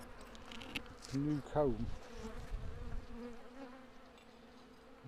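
Honeybees from a colony in a chimney buzz nearby in short rising and falling bursts over a low background hum, and a person speaks briefly.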